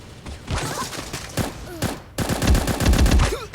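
Rapid gunfire bursts in the shooter game Bullet Angel Xshot, including sniper rifle shots, sharp cracks in quick succession, loud and close, with a brief pause before a denser volley near the end; a voice talks faintly underneath.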